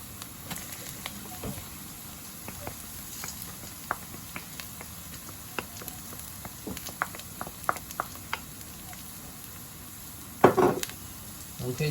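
Fresh crushed garlic added to onions frying in a pan, giving a soft steady sizzle broken by scattered taps and scrapes of a spoon, with a louder burst of clatter and stirring near the end.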